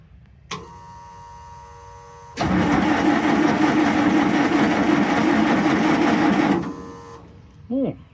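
The engine of a 1946 Jeep cranks on its starter motor without catching, first a brief whir, then a long steady grinding crank for about four seconds before stopping, followed by a short voice.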